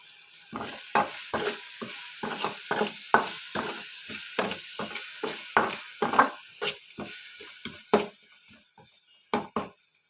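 Spicy potato fry being stirred and mixed in a pan for a rice and aloo dish, with repeated sharp scraping strokes of a spoon against the pan over a steady sizzle, close and fairly loud.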